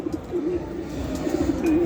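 Soft, steady pigeon cooing close by at a pigeon exhibition in Katowice, a low throaty warble repeating throughout with faint background rustle.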